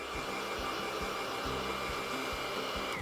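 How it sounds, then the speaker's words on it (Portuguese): A hair dryer that had been acting up runs steadily and close by, a continuous whirring blow with a faint rhythmic pulsing underneath, while paint is being applied in coats nearby. "O nosso secador que estava meio indisposto aí, voltou."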